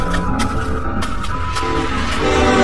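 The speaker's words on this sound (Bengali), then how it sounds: "এমন সময় ট্রেনের হর্ন বেজে ওঠে।" A train horn sounding at night as a train comes on, with a long held tone broken by several short bursts over a steady rail rumble.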